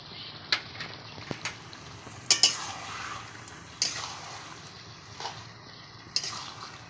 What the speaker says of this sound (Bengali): নুন দিয়ে ভালো করে নেড়ে নেব